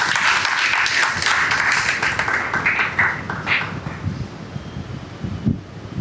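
Audience at an Ambedkar commemoration speech breaks into steady applause, a dense wash of clapping that holds for several seconds and thins out toward the end.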